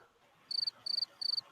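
Cricket chirping sound effect, three evenly spaced bursts of rapid, high, pulsing chirps over a quiet background.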